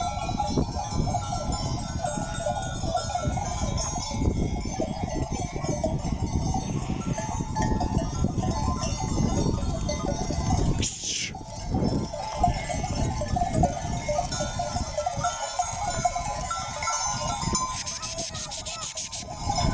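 Animal bells clink and clank continuously over a flock of sheep and goats, with occasional bleats and a constant outdoor rumble, no talking heard.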